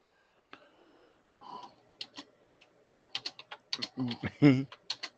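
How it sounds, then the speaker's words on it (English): Quiet bursts of computer keyboard typing, irregular clusters of clicks getting busier toward the end, close and fairly soft. "I hear him typing."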